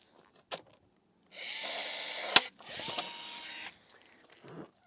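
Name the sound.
Olympic rivet being popped with a rivet tool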